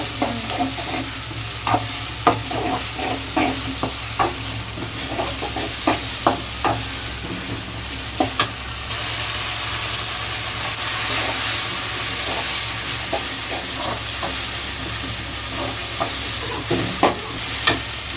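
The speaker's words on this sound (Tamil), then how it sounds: "நல்லா பச்சை வாசனை போகிற வரை எண்ணெயிலே நல்லா வதக்கணும்" Steady frying sizzle with a hissing bed as masala with ginger and garlic sautés in oil, broken by repeated sharp clinks and scrapes of a utensil stirring in a pan, close and continuous.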